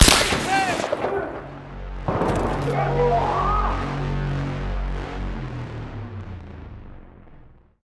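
Two booming explosions in Battlefield 3, one at the start and another about two seconds later, each followed by a long low rumble that slowly dies away.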